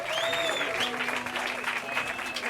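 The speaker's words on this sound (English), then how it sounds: "No, please hold your applause. Hold your applause, please." Audience applause fills the short stretch, steady and fairly close, with a voice and tonal sounds running over the clapping.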